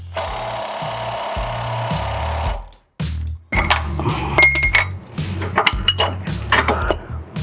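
A 1/2-inch drive impact wrench with about 1,000 pound-feet of torque installing a ball joint: a loud, buzzing, rattling burst that stops abruptly, followed by sharp metallic clinks and clanks of tools and parts.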